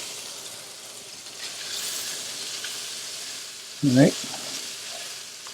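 Italian sausage frying in a pan, a steady broadband sizzle running throughout at moderate level, with a brief spoken phrase near the end.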